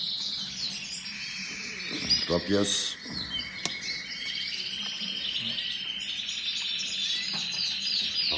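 Young birds chirp and tweet steadily in a breeder's aviary, a dense high twittering chorus running throughout, with French and Dutch speech over it and a brief handling clatter near the middle.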